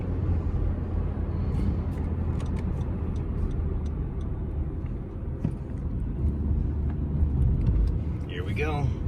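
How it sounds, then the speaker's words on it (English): A 2017 Honda Civic 2.0 fitted with a short ram intake accelerating onto a parkway, heard from inside the cabin as a steady engine drone and road rumble, with small ticks over it. "We're gonna accelerate onto the parkway."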